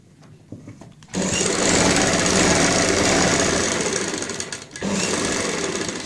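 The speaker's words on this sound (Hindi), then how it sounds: "अब हम सिलाई लगाएंगे यहाँ पे इस तरीके से।" A sewing machine stitches an invisible zip into a kameez or blouse, its motor whirring loud and close in a long continuous run, then a brief pause and another run.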